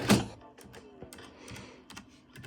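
Typing on a Canon Computer Kit keyboard, a quick run of close, crisp key clicks in an uneven rhythm, starting with one louder strike and then lighter taps.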